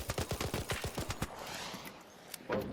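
Rapid bursts of gunfire in the ARC Raiders video game, a quick rhythmic volley of about a dozen sharp shots followed by a pause, then one more isolated shot and a final burst.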